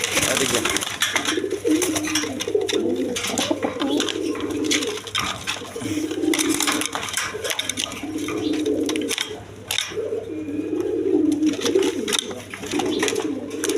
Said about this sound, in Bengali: দেখেন একদম কোয়ালিটি সম্পন্ন কবুতর, আফসানি গিরিজিয়াল